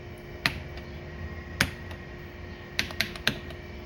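Keys on an Amiga 2000 computer keyboard are struck a few times, sparse separate clicks with a short quick burst near the end, close and alone in a quiet room.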